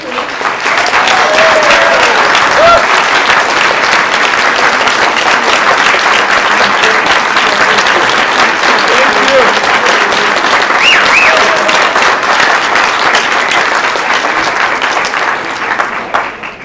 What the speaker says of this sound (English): let's have another round of applause for Representative Tlaib.